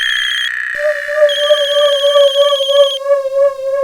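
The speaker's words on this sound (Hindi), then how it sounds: "अरे कब से फोन बज रहा है, उठाती क्यों नहीं?" A telephone rings continuously with a bright electronic ringtone, a steady repeating tonal warble that shifts pitch partway through; loud and close, with no voices over it.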